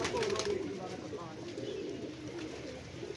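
Pigeons cooing on a rooftop, soft continuous coos amid steady outdoor ambience with faint voices in the background.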